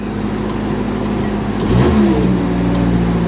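An old truck engine runs close by, a steady mid-pitched idle that swells into a brief rev partway through before settling back to a loud, even rumble, with no talking.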